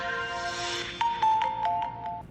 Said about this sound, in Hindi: फिर आपने वेलकम साउंड सुना ही होगा